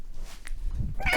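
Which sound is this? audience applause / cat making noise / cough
cat making noise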